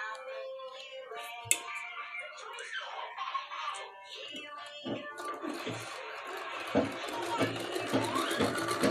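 A picot fall sewing machine whirs as it stitches fabric, its running hum building through the second half with small clicks, while someone talks over it.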